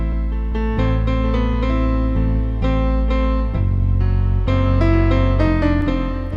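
A piano plays a flowing chord progression with frequent changes, full sustained harmonies and a deep bass line, with no talking.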